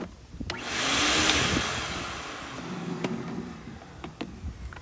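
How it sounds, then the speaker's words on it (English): Air is blown into a pool pump line to push antifreeze through while the pool is closed for winter. It makes a whooshing, blower-like rush that swells and then fades, with a few clicks and knocks and no speech. "we're going to give it a quick blow just to send the antifreeze up the line a bit"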